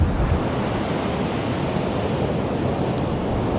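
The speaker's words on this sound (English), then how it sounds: "look at that sea." Sea waves break in a steady broadband roar on North Donmouth beach in Aberdeen after days of northerly winds, with continuous surf and wind noise filling the clip and no voices.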